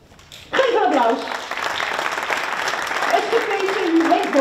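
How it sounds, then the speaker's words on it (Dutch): Audience clapping at a sustainability debate in Epe, starting abruptly after a short quiet lead-in and continuing under a speaking voice. "Geef een applaus."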